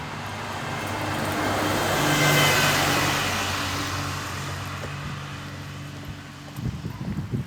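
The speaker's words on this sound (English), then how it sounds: "Great to see the buses" Buses passing along Henderson's Road: a broad roadway rumble swells to a peak and slowly fades as a vehicle goes by, with low engine drone, then scattered thumps near the end.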